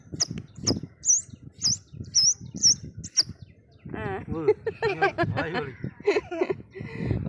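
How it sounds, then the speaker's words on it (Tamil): An Asian koel calls in a series of sharp, rising whistled notes, several in quick succession, fairly close and loud, before people begin talking over the background. "இது கட்டி குயில் கத்துது பாருங்க எவ்வளோ சத்தம் கேட்குதுன்னு"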